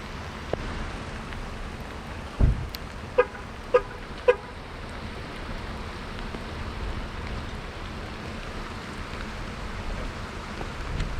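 Steady rain falls outdoors during a protest, a loud continuous hiss with a few sharp knocks and brief passing vehicle sounds, no talk.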